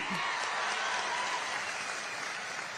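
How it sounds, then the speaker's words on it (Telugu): Audience applause in a crowded hall at an Andhra Pradesh police constable recruitment event, a steady dense clapping that holds at even loudness from start to finish. "గట్టిగా చప్పట్లు కొట్టి ఆశీర్వదించండి"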